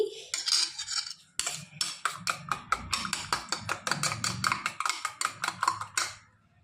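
Spoon clatters rapidly against a bowl while omelette batter is beaten, a dense run of sharp metallic taps in steady rhythm, close and loud, fading out at the end.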